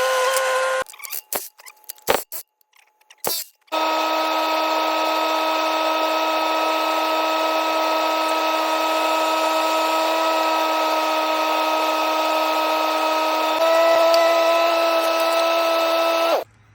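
A power tool whines steadily while driving bolts into the track bracket of a Bobcat T590 skid steer, a sustained loud tone with a slight pitch shift near the end, after a few short bursts and clunks at the start.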